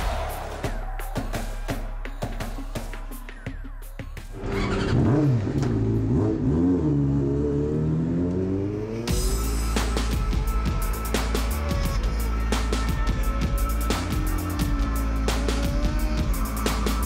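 A car drives a course with obstacles, its engine revving and rising and falling in pitch, with bursts of acceleration and loud mechanical clatter close by throughout.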